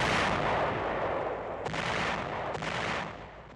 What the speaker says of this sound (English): a 2-hour bombardment is concentrated on Lingayen Gulf's southern coast